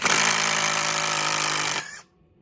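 A Dewalt impact driver backing out a screw runs as one loud, continuous hammering whir for almost two seconds and then stops abruptly, leaving near silence.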